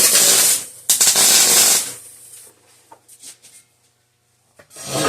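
Tack welding a part for a blueberry spray rig: two loud bursts of crackling arc, each about a second long, then a quieter stretch of light clinks and handling, and a final burst at the end.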